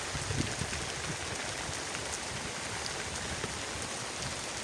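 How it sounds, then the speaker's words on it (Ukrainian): Steady, dense rain hisses close by, with scattered droplet taps and no voices. "А тут дощ почався і гримить."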